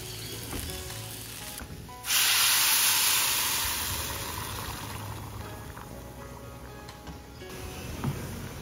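Garlic fries in a pan. A loud burst of sizzling hiss breaks in suddenly and then slowly dies down to a softer crackle, with a thin steady high tone running across.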